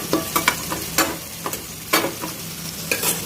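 Taro stolons cooking in a wok are stirred with a few quick scraping strokes over a soft, steady sizzle, the clatters coming in irregular bursts close by.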